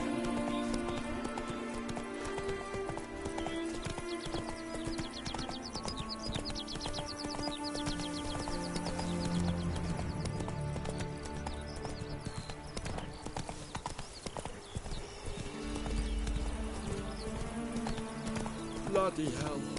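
Roach, the horse in a PS4 game, trots with steady rhythmic hoof clip-clops and an occasional whinny, under game music and a player's excited talk.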